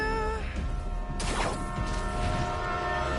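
A loud rumbling train in the video game Spider-Man 2 on PS5, with a sustained horn tone and a sharp metallic screech midway, dense and continuous throughout.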